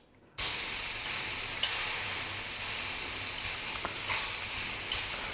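Sous vide filet mignon seasoned with paprika searing in a hot frying pan with butter, a steady loud sizzle that starts abruptly and holds, with faint pops and crackles; no talking.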